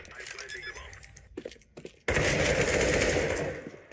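Rapid machine-gun gunfire from a first-person shooter video game, a dense sustained burst that fills the second half after scattered shorter shots and game sounds, with players talking over it.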